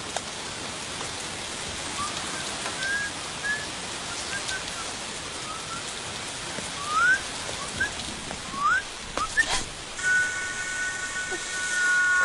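Steady rain falling as a continuous broadband hiss, with faint bird whistles and a few brief high tones scattered over it, no talk.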